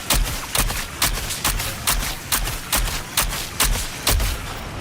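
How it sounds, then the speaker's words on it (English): Rapid gunfire from a shooter in Suicide Squad: Kill the Justice League, loud bursts of shots at a fairly steady rhythm over a busy game soundtrack. "Excuse my bullet spread"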